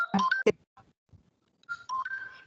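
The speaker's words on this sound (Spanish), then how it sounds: "disculpen que las llamadas me interrumpen" Phone ringtone from an incoming call during an online medical lecture, a short melodic tone burst at the start, then a pause, then the tune sounding again, fairly close and clear with no talk over it.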